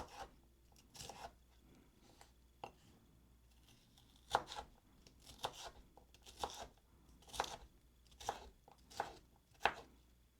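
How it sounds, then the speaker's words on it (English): Knife chopping vegetables on a cutting board for a summer pasta salad, soft scattered cuts at an uneven pace, close and quiet with no talking. "I'll cut some of this for my hummus dipping situation"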